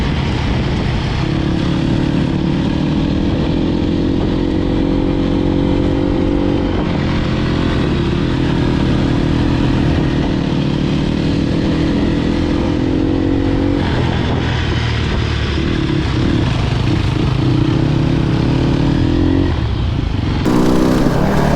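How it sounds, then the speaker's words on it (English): Two-stroke motorcycle ridden on a trip through Spain, its engine droning loud and close throughout, with rising and falling revs and short throttle bursts over wind noise. "Gliding, little squirt on that 2-stroke."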